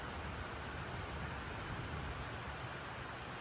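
Heavy rain pours down in a steady, even hiss with no breaks, a dense wash of noise filling the whole stretch at low volume.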